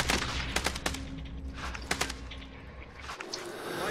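Rapid bursts of gunfire in a battle royale shooter, a dense fusillade of sharp cracks with repeated shots for several seconds before tapering off, fairly loud and close.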